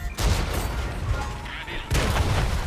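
Twin-cannon tanks such as the ST-II, IS-3-II and IS-2-II fire in World of Tanks: two heavy booming shots about two seconds apart, loud and near, over a constant rumbling battle background.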